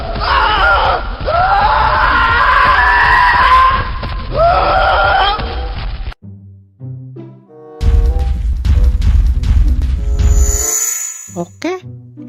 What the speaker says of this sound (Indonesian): sekarang kita coba dengarkan suara teriakannya